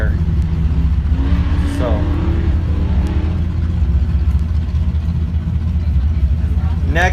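A custom-built off-road race car from a Pro/Ultra 4 desert race idles and revs with a loud, steady engine drone, heard under a commentator's voice.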